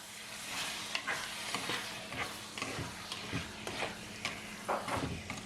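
Chicken liver sizzles in a pan while a utensil stirs it, giving repeated scraping strokes over a steady low frying hiss, close and fairly quiet.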